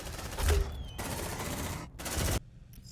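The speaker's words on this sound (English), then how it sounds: "Suppressive fire." Rapid bursts of gunfire from the Aliens: Dark Descent video game, dense and loud, with a brief gap and then a final burst that cuts off abruptly.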